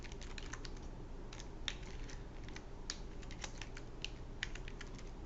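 Steady keystrokes on a computer keyboard, a quick uneven patter of nearby clicks that continues throughout, alone without voices.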